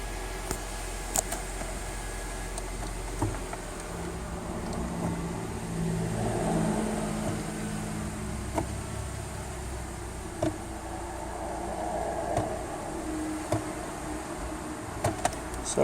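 A car engine idles steadily at close range during a CVT automatic transmission filter service, with a low, constant hum, faint ticks and small shifts in level.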